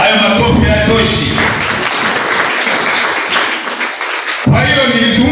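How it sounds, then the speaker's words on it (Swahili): Church congregation clapping hands together, a dense burst of applause that rises, thins briefly, then returns loud and close, with voices mixed in. "Chape Bwana Yesu makofi. Hayo makofi hayatoshi."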